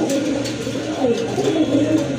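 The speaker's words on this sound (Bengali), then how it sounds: "আরেক জোড়া কবুতর দেখতে পাচ্ছেন" A pair of crested black-and-white pigeons, a male and a female, coo in soft, low, repeated throaty bursts close by.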